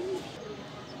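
Pigeons of a flying breed coo once, low and close, in a brief quiet outdoor moment.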